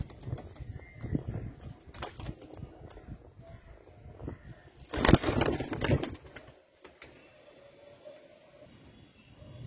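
Pigeons in a Bengali bird-selling yard, Kalsera and Lalsera fancy breeds, give soft scattered coos and rustles through a steady background, with a louder burst of flapping or handling noise midway, then quieter coos.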